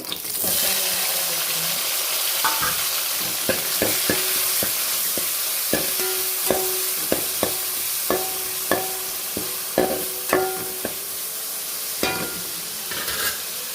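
Onions and tomatoes sautéing in a pan for sambar, a loud continuous sizzle under a quickening run of spoon taps and scrapes against the pan, ringing clinks near the end; a faint trickle of water runs behind, with no talk.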